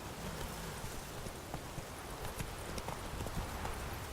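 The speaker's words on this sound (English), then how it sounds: "Run, Roach." Horse hooves clatter at a gallop in The Witcher video game, a quick steady clip-clop rhythm under a hiss like rain, fairly faint and continuous without talk.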